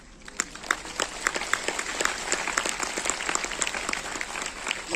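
An audience at a Modicare company meeting in Nazrul Mancha, Kolkata, applauds: steady, crowded clapping from a large hall fills the stretch with sharper individual claps standing out, moderately loud throughout.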